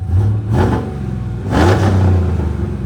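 A 2016 Chevy Silverado with a 5.3 V8 and lifted suspension revving up close: a loud, deep engine roar with two throttle blips that rise and fall over a rumbling idle, with no talk.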